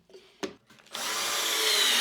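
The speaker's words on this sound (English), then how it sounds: "A few screws from the top and, of course, a couple of pocket screws in the back." A power drill driving screws into a rolling cabinet made from scrap and salvaged wood: a couple of knocks and clicks, then the drill spins up and whirs steadily, close and loud, until the end.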